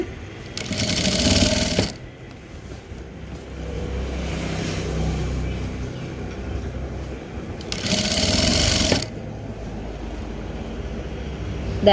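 A sewing machine stitches the back neck of a nighty frock in two loud, rapid whirring bursts of about a second each, separated by quieter handling noise.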